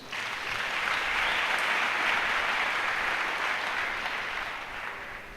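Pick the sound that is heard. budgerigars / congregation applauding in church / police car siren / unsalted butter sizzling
congregation applauding in church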